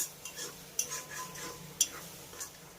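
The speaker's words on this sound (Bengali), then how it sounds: "এবার পেঁয়াজটাকে আমি তেলের সঙ্গে খুব ভালো করে একবার মিশিয়ে নেব" Chopped onions stirred in oil in a pan for a potol korma, giving soft scraping and stirring sounds with a few sharp utensil clicks against the pan, fairly close and quiet.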